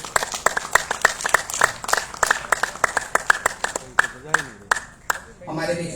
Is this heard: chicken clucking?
no